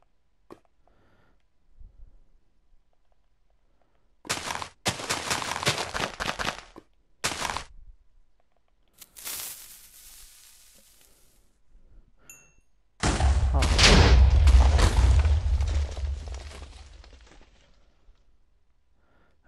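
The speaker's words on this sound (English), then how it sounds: "I better keep up with the explosion" Minecraft explosions, most likely TNT blasts clearing out a subway station build: a few sharp bursts early on, then one long, loud, deep rumbling blast near the end that slowly fades away.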